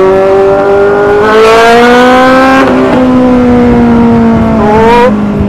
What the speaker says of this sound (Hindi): तो एक बार बाइक खींचते हैं, दिखाते हैं आपको पावर कैसी है और पिकअप परफॉर्मेंस कैसी है